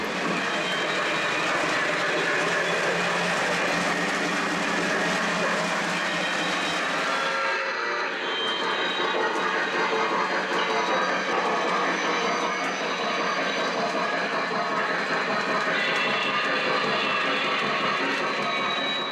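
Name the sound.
model train running on track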